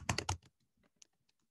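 A few quick keystrokes on a computer keyboard as a full name is entered, a fast burst of clicks followed by sparse, fainter taps in a quiet room.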